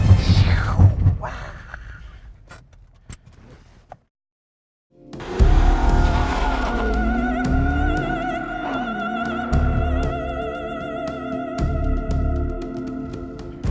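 A Nissan 370Z Nismo braking hard on track, engine and road roar giving way to sustained tire squeal with wavering pitch, loud and close after a brief silence, with voices heard early on.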